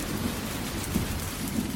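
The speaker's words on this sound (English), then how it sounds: "people gaze out their windows at the sheets of falling rain." Steady, dense rain pouring down, a continuous broadband hiss with occasional heavier spatters.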